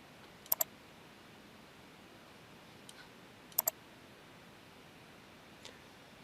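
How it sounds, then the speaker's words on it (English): A computer mouse gives two quick double clicks about three seconds apart, close and crisp, with a couple of fainter single ticks between them over a quiet hiss. "I click on OK, I click on the screen background to cancel"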